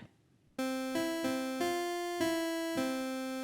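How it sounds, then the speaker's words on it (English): Bright, buzzy square-wave tone from a synthesizer oscillator, rich in harmonics, starting after a short silence and stepping through several sustained notes in a simple melody. "So I'm going to go back to square real quick."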